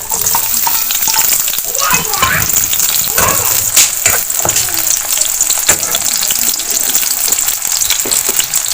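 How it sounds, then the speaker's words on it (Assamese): Onions sizzle and crackle steadily in hot oil, a loud, continuous frying hiss with scattered pops and occasional stirring scrapes, no voices. "গৰম কৰি পিঁয়াজ কেইটামান দি লওঁ নহৰু অলপ থেতালি লৈছোঁ দিছোঁ পিঁয়াজখিনি দিলোঁ"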